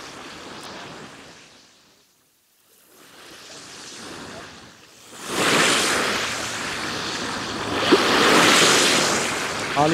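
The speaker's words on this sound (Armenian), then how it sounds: "Ալիքների ձենը դուրս լսվում ա" Waves wash on the shore of Lake Sevan, rising from soft lapping to a louder, broad rushing surge, with wind buffeting the microphone and faint voices nearby.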